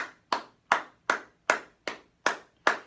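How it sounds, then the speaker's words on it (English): A single person claps double time while walking, eight crisp, evenly spaced hand claps with a short decay after each and silence between them. "Here's our walk clap, double time."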